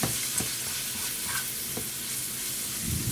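Armadillo meat stirred in a hot pan gives a steady low sizzle with a few soft scraping knocks of the utensil, close and moderately loud, with no talk over it.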